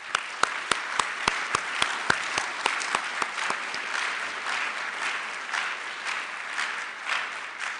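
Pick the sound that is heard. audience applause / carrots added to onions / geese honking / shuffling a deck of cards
audience applause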